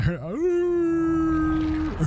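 A long, steady, dog-like howl from the video game Warzone swoops upward and then holds one loud, sustained tone for over a second before cutting off, with a brief voice at the start.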